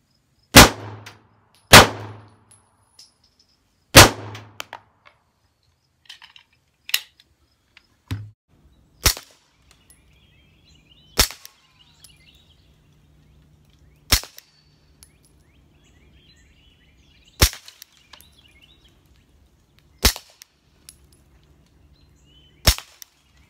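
Ten sharp, loud pistol shots from a Girsan Yavuz 16 fitted with a muzzle brake, fired at irregular intervals of a few seconds, each a crisp crack with a short ringing tail over near silence.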